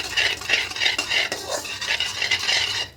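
Asafoetida and sugar are stirred steadily in hot oil in a pan, a continuous scraping and swishing rhythm of a utensil against metal, close and fairly loud, without talk.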